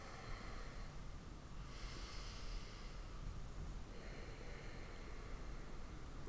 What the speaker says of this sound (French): Prenez un moment pour respirer